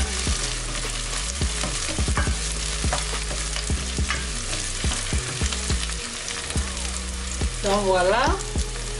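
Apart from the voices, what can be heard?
onions cooking in a pan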